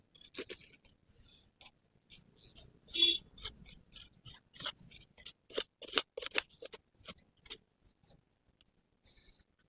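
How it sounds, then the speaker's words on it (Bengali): Scissors snip through the roots of a jade plant during root pruning and repotting, a series of sharp, close, crisp cuts in an irregular rhythm with quiet pauses between them. "নিচে যদিও রুট বাউন্ড হয়নি খুব একটা, তাও নিচটাকে একটু আমি কেটে দেবো।"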